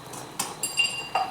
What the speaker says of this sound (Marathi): आपल्याला हे असं 10-15 मिनटं हलवून घ्यायचं आहे.